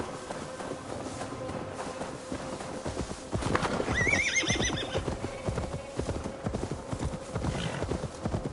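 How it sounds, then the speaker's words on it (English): In the video game Assassin's Creed Valhalla, a horse whinnies in a rising, wavering call amid steady clip-clopping hooves, with rhythmic hoofbeats continuing throughout against a constant background hum. "Now to deliver Magni his horse"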